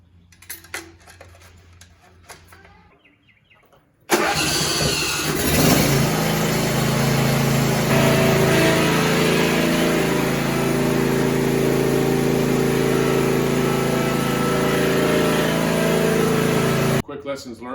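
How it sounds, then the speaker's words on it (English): A John Deere Z335M riding mower engine cranks and catches after a few quiet seconds of low sound, then runs at a loud, steady idle close by until it shuts off at the end. "I'm just going to start it up and make sure that it works."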